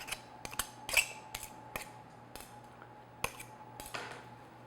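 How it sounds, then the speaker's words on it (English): A metal pastry blender cuts butter into flour in a bowl with a rocking motion, making a string of sharp, irregular clicks and scrapes against the bowl, close and crisp, with no talking. "cut it in, your butter into your flour, kind of using a rocking motion if you're using the pastry blender"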